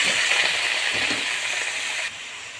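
Washed, cut pointed gourd fries in hot oil in a pan, giving a loud, steady close-up hiss of sizzling that drops slightly in level near the end.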